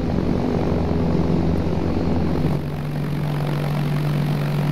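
Propeller aircraft flying in the video game ArmA 3 Apex, a steady loud droning engine hum with a constant low tone that shifts slightly partway through, heard alone.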